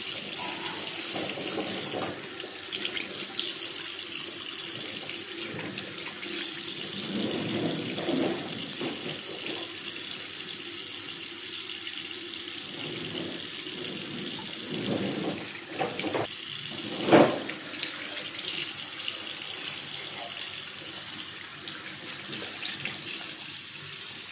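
A tap runs into a sink while a face is washed after a rice facemask, a steady splashing flow broken by hand splashes and one sharp knock, with no talking.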